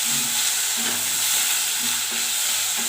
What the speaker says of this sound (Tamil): இப்போ தக்காளியை போட்டுக்கிறேன் போட்டு ஒரு கரைச்சி கரைச்சி விட்டு இது வதங்கட்டும் நல்லா